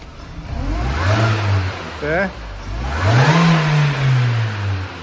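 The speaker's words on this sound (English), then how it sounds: "Now when you rev the car, you're going to get the supercharger whine" A 2007 R52 Mini Cooper S engine is revved from idle in two rising blips, the supercharger whine climbing and falling with each rev, close and loud, while someone speaks briefly.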